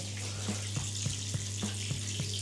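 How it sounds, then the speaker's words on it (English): An electric pump drains a 170-litre hot water cylinder, giving a steady close hum under rushing, swirling water, with soft knocks repeating about every half second. "Pump on, there you go, see that? It's even got a whirlpool, because it's sucking the water in now"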